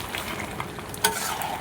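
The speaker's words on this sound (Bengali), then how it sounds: "আলু আর মাংস একসঙ্গে খানিকক্ষণ আরও কষিয়ে নেব।" Meat and fried potatoes being stir-fried together in a pan give a steady close sizzle, with a brief louder scrape near the end.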